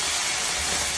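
Vegetables sizzling in oil in a pan, the dish nearly cooked with oil rising to the surface; a steady, dense hiss holds evenly throughout, close and fairly loud, with no talk.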